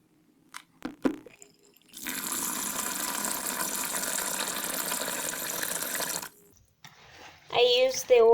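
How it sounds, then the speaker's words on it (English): Cloudy first rinse water from washed rice poured out into a sink, a steady splashing stream lasting about four seconds, preceded by a few knocks and followed by a brief voice. "so I'm going to pour this out"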